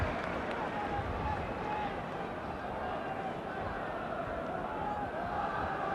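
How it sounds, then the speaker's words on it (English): Football crowd at a packed ground applauding Osvaldo Ardiles, a steady, distant wash of clapping and murmur that holds evenly throughout. "applause all around the ground for Osvaldo Ardiles"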